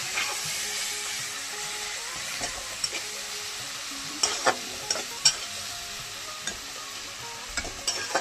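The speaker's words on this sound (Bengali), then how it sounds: "এখন আদা রসুন আর কাঁচা লঙ্কা বাটাটা দিয়ে দিচ্ছি। ভালো করে নাড়িয়ে চেড়ে নিচ্ছি।" Ginger, garlic and green chili paste frying with onion and tomato in a pan, a continuous bright sizzle broken by repeated spatula scrapes and taps, close and with no talking.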